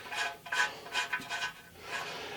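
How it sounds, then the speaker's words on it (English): A thread-chasing die is run down a differential bolt on a 1993 Pontiac during final assembly, giving soft, close metallic rasping and rubbing strokes in short repeated bursts with no talk. "go back and run a dye down it and clean the threads, thread chase it"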